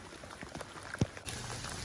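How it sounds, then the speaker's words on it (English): Hail and rain falling outdoors in Victoria, BC, a steady, dense pattering wash of small impacts that thickens partway through, with no voices. "Well, now it's hailing a bit more."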